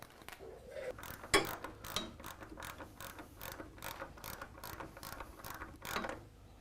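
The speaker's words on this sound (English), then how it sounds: "Torque wrench." A torque wrench ratchets in quick, regular clicks while tightening the muffler fasteners on a motorcycle getting an S&S Cycle performance upgrade, one sharper click standing out early. The clicks are close and fairly quiet, with no talking.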